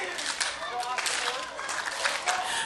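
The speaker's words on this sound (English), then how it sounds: "Crowd urging Justin Newhook to get back up." A wrestling crowd at an ECPW expo show in Sydney roars steadily, with scattered clapping and shouting voices blending into a continuous near wash of noise for a few seconds.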